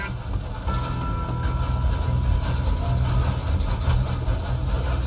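A moving train in the Red Dead Redemption 2 video game, a loud continuous low rumble and rattle of rolling cars that runs steadily throughout.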